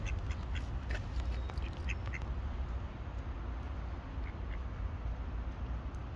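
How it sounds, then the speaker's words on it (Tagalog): Two ducks in Paris give a few faint, scattered quacks over steady outdoor background rumble, with no voices. "Ang bait ng dalawang itik na ito."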